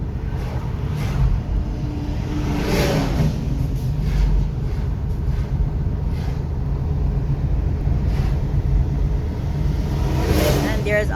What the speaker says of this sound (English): And there's all the traffic on Spurchy Hill also.